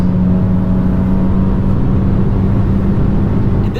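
A 10th gen Honda Civic Si accelerating through the gears, its engine note droning loud and steady with a tonal whine, near and continuous with no talk.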